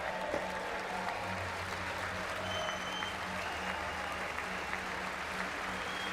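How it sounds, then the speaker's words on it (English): Sustained audience clapping at a political speech, a steady dense wash of applause held at an even level throughout, heard from a distance with a low hum underneath. "How long they was clapping for?"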